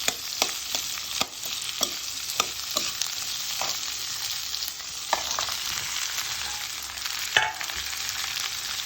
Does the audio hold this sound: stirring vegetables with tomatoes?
yes